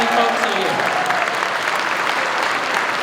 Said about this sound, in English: Give her a round of applause so she sees how many folks are here